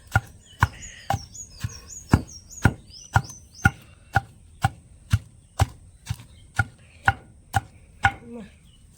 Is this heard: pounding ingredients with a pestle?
yes